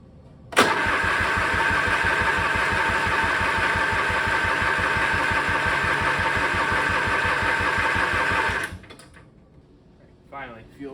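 A Craftsman riding lawn mower engine cranks to start with a loud, steady, rhythmic churning for about eight seconds, then cuts off abruptly, leaving near silence before a brief voice at the end.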